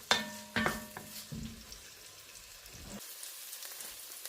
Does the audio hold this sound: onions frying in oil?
yes